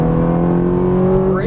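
Ferrari 430 engine on a race track holding a steady, loud, even drone with a slight rise in pitch near the end as the throttle opens, with an instructor talking over it.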